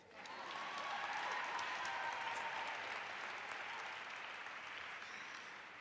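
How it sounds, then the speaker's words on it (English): A crowd at a school of entrepreneurship launch bursts into steady applause that rises quickly and holds at a loud, even level, with a few faint whistles riding over the clapping. "So please give me a clap."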